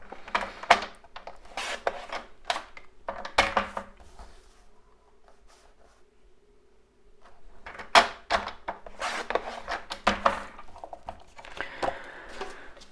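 Cardstock is being cut for a Stampin' Up! maritime double slider birthday card. Close, scratchy cutting and rubbing strokes come in irregular clusters, with a quieter pause in the middle before the strokes resume.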